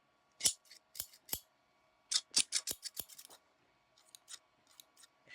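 Quilting scissors snip through fabric in a series of crisp, close cuts, single snips followed by a quick burst of several and then fainter trailing ones, with no speech.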